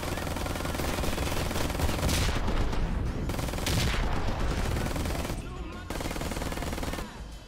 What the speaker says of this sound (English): And then now we're shooting.